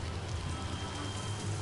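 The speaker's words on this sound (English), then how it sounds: "So I make it rain" Rain summoned by a spell in a video game, a dense steady hiss of rainfall on the ground with a low rumble beneath, continuous and fairly loud with no pauses.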